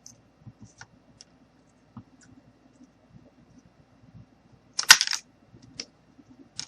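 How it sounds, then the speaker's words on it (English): Pieces being cut off a wooden popsicle stick, sparse small ticks and clicks with one louder crunching snap in the middle, close and otherwise quiet. "I'm just going to go ahead and cut off a few more pieces."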